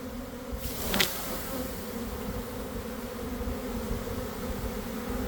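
A swarm of honeybees drones in a dense, steady buzz after being shaken down in front of a hive, close and continuous, with a brief louder burst near the start.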